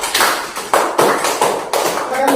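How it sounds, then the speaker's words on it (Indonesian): A classroom group claps together in a quick, crisp burst of applause, many hands slapping in a fast, slightly uneven rhythm that stays steady and close throughout. "Beri dulu aplaus untuk kelompok 3"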